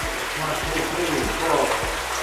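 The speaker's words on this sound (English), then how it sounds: "Listen to the music of water." Drinkable water pours steadily from a natural spring in Arpino, a close, continuous splashing trickle with faint low thumps recurring underneath.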